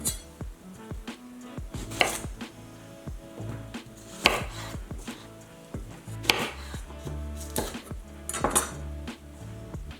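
A knife chops pork belly on a board for char siu with repeated sharp, close knocks at an irregular rhythm. Clinks of utensils and dishes sound between the cuts, and no one speaks.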